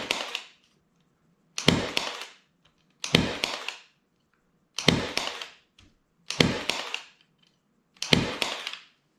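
Milwaukee cordless 23 gauge pin nailer driving pins into wood, six sharp snapping shots spaced about every one and a half seconds, close and loud with silence between.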